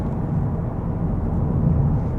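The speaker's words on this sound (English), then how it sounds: "give it a little bit of gas and then let off, and it makes some wonderful noises out the back" A loud, low rumbling Volkswagen Golf R engine and exhaust drone, continuous and close, with rough burbling texture as the throttle eases off.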